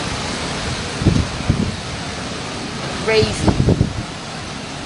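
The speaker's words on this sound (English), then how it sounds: "the wind from what you're looking at is all over the place" Strong Hurricane Dorian winds roar across St. Thomas as a steady broadband rush, with a voice speaking briefly over the gusts.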